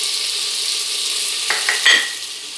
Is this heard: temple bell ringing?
no